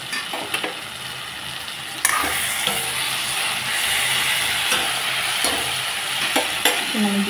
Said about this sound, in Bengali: এই সবজিগুলো মোটামুটি ভাজা হয়ে এসেছে।